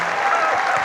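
Brief, loud burst of audience applause at a talk on depression, a dense, even wash of clapping filling the short moment.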